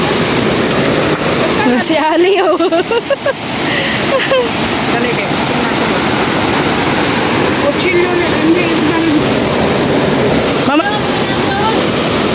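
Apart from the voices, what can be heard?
strong rushing water at outing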